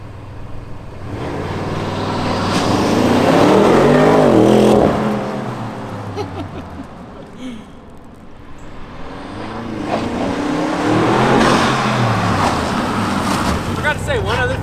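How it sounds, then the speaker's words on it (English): An Audi RS6 Avant launches, heard from outside as a loud engine roar that swells, fades as the car pulls away, then rises again as it returns. "I'm gonna do a launch real quick so you can see what it looks like from the outside"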